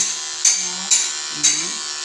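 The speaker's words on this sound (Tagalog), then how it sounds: "Kung masyadong mahaba na yung hair, pwede mong gamitin ito yung hindi yung blade." Electric shaver trimming underarm hair: a continuous close buzz broken by three short louder passes as the head moves against the skin.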